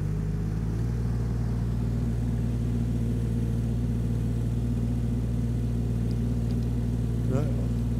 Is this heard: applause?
no